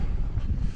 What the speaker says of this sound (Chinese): 一直刮风。